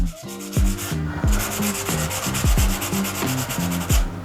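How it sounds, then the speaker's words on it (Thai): Coarse sandpaper wet-sanding a lacquer finish with water gives loud, close rhythmic scrubbing strokes, each a gritty rasp repeating about twice a second, with no voices. "อันนี้เบอร์หยาบลงไปก่อนนะครับ ขัดกับน้ำนะครับ"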